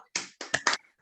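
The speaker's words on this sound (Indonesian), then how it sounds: "Beri tepuk good job dulu untuk kelompok 1" A classroom of students doing a rhythmic 'good job' clapping chant for a group, four sharp claps in a quick pattern, close and clear.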